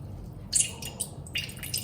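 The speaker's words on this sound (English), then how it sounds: "How much water is coming out?" Water draining from a cloth of sweet curd, a run of small wet drips and trickles falling close by in an uneven rhythm over a quiet background.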